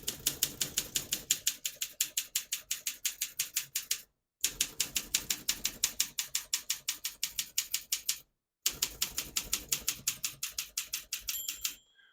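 A 1958 Olympia SM3 portable typewriter clacks through steady, rapid keystrokes in three bursts separated by brief pauses, close and crisp, with a small ding near the end and no voices.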